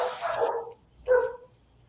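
A dog gives two barks indoors, a longer bark followed by a shorter one after a pause, fairly close and alone.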